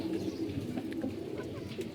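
A pigeon coos in low, repeated murmurs, faint and near, with light rustling and no voices.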